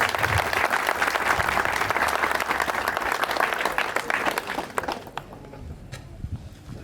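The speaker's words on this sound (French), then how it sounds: "Je demande qu'on l'applaudisse." Dense applause from a seated audience at a customary wedding ceremony, loud and steady for about five seconds, then thinning into scattered claps and quieter room noise.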